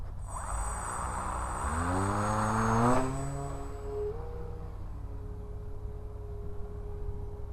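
Small RC propeller plane engine on a takeoff attempt, a steady buzzing drone that rises sharply in pitch over the first three seconds, then settles into a lower, steadier hum as it pulls away.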